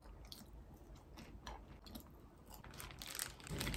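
Close-up chewing and crunching while eating a McDonald's Gracoro gratin croquette burger with soft bun, steady moist mastication with a few crisp bites, louder toward the end, no talking.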